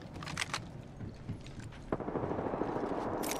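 Rapid gunfire crackles through a shooter video game firefight, bursts of automatic fire and sharp shots layered over a dense, rumbling battle background with no voices.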